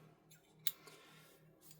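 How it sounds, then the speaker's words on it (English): Scissors trim the edges of epoxy-coated stems for an epoxy turtle craft piece, giving a single quiet, sharp snip over a faint background hum. "and then we're going to take some scissors here"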